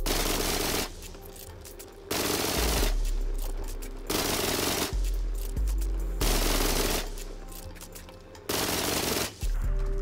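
Sustained automatic gunfire in the video game Rust during a base raid, in loud long bursts separated by short pauses, with no talking.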